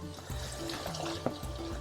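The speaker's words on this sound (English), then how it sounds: "add all the peas and just a touch of water" A small splash of water, about a quarter cup, goes into a pan of keema with minced lamb and peas, a soft trickling pour heard close and quiet with a few faint clinks.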